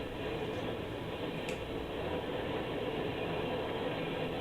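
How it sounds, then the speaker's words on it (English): A BNSF freight hopper train passes at a steady distance, giving a continuous low rumble of rolling cars with faint metallic wheel noise and no voices. "it looks like a hopper train, or at least the head end of a hopper train anyway, going by"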